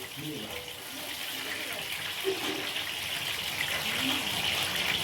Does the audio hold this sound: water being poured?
yes